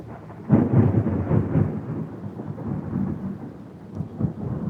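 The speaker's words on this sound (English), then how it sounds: "That is one of the things I like about this area of the world is these summer storms." Rumbling thunder rolls through a heavy summer storm with steady rain, loud and close, the low rumble swelling in waves without any voices.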